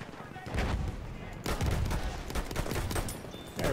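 Shots in single-fire mode in the Battlefield 1 video game crack out in a steady series of separate, fairly loud reports over a noisy battlefield background, with some faint voice.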